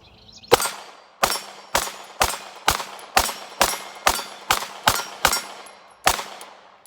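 Eleven loud, sharp pistol shots from a Canik METE MC9 at a shooting range. They come in a steady, evenly spaced string with a short pause before the last shot, and each crack rings out with a brief decaying echo.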